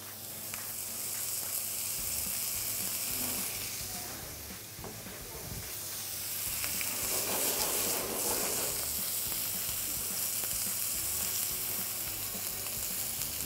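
Prawns sear in olive oil in a pan with a continuous, close sizzle and hiss. The sizzle swells louder partway through as more oil goes in, and utensils stir and scrape now and then.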